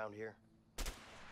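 A single-shot gun fires one sharp, loud report with a short decaying tail, preceded by a brief voice.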